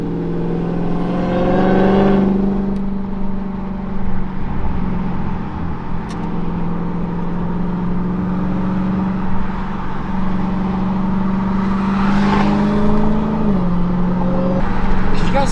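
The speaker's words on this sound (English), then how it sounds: "Hear that supercharger? That thing is so loud." A loud supercharged Hellcat engine revs and accelerates with a steady droning supercharger whine, the pitch climbing and holding strong throughout.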